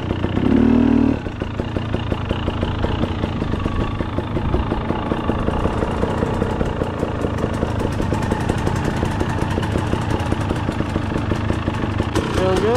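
A 250 motorcycle being ridden around a parking lot, its engine running steadily with rhythmic putter and occasional revs, heard under people talking nearby.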